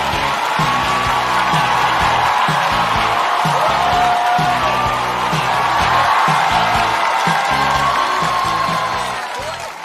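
A packed studio audience at the Rock & Roast 5 stand-up comedy show applauds and cheers loudly and continuously as comedian Xu Zhisheng comes on, with a thumping rhythmic music beat underneath.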